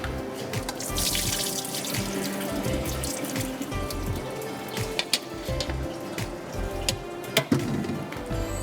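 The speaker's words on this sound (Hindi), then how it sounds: "तो आलू को मुझे ड्रेन आउट करना पड़ेगा, सो आई नीड अ छन्नी।" Water drains from grated potatoes through a strainer in a kitchen, a steady close splashing and trickling with scattered drips throughout.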